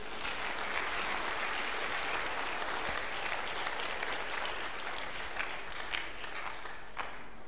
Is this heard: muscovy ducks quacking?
no